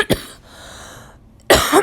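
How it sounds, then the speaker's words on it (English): A person recovering from surgery coughs twice, a sharp close cough at the start and a longer harsher one near the end, separated by a quiet breathy pause. "excuse me, I'm coughing."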